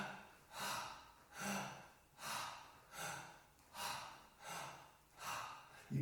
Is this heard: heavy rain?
no